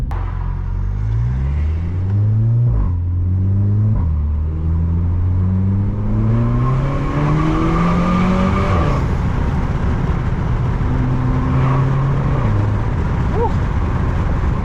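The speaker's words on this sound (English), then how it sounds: "the screamer is crazy on this car" A Stage 1 tuned Volkswagen Polo GTI with a turbo screamer pipe revs hard through rising and falling gears, with a loud, raspy exhaust wail and road rumble throughout.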